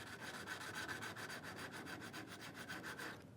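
Router plane blade being honed on a fine 1200 grit sharpening stone: steady rhythmic back-and-forth rubbing strokes, close and even, for about three seconds before stopping.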